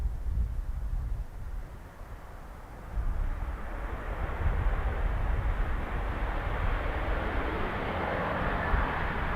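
A Ryanair airliner at Dublin Airport rumbles in the distance with a low, wind-buffeted engine roar that dips briefly, then builds into a steady hissing jet noise.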